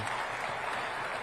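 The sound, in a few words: applause for the panel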